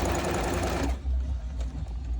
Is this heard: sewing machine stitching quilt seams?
yes